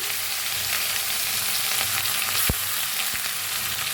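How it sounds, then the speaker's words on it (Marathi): Garlic, green chili and curry leaves stir-fry in hot oil with mustard seeds, cumin and asafoetida for okra, a loud, steady sizzle with a few sharp spatula scrapes and no voices. "कढीपत्ता हलवून भाजून घेऊया"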